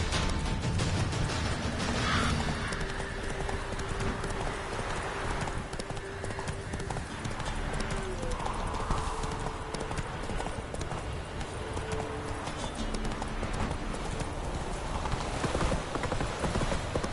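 Roach the horse gallops in The Witcher 3, a continuous rapid drumming of hooves over a dense, loud game soundscape with faint tonal music underneath.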